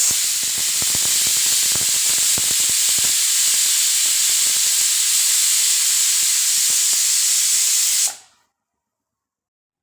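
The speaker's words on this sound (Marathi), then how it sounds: "कुकरच्या माझ्या शिट्ट्या होत आहेत," A pressure cooker of toor dal vents steam with a loud, steady hiss that runs unbroken for about eight seconds, then cuts off abruptly into silence.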